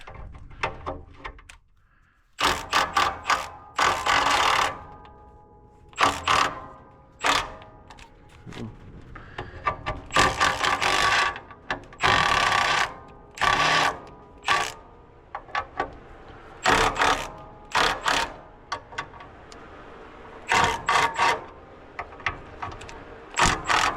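A motor is unbolted from a poultry house tunnel fan with repeated short bursts of a power tool whirring on and off, each lasting a second or two, close and loud with brief quiet gaps between.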